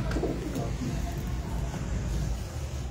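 Female Ferozpuri pigeons coo close by in low, soft, repeated throaty calls over a steady background hum.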